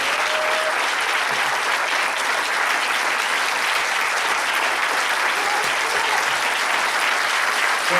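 An audience at the National Press Club breaks into steady, sustained applause to welcome Chris Hedges, a dense, even clapping that fills the whole stretch without pause.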